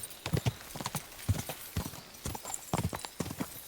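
Hooves clip-clop in quick irregular beats as a horse gallops across ground in Kingdom Come Deliverance 2, close and distinct, with a brief whinny-like tone in the mix.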